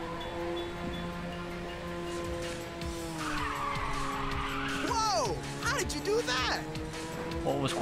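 A race car in Ridge Racer 6 drifts with long squealing skids over a steady engine drone, the tire squeal rising and warbling midway; a person talks over the game sound.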